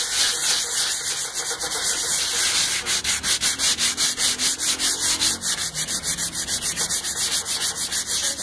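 Wood being sanded by hand with sandpaper wrapped on a sanding block, a close, loud rhythmic scrubbing in quick regular back-and-forth strokes.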